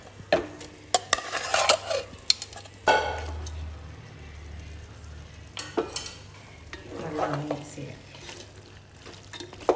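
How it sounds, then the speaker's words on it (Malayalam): Beef is stirred and fried into an onion and tomato masala for a Vadakara beef biryani: irregular scraping and clattering stir strokes against the pot over a low sizzle, close up, with occasional faint voice in the background. "മസാല ഉള്ളിയും തക്കാളി ഇതെല്ലാം നല്ല വഴറ്റി ആ മസാലയിലേക്ക് ഈ ബീഫ് ഒന്ന് ഇട്ട് കൊടുക്കാം"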